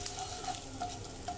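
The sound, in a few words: stirring cumin and asafoetida frying in oil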